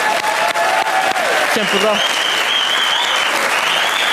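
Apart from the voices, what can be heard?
studio audience applause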